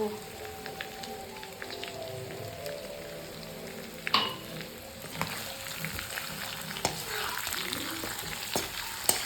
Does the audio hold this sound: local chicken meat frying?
yes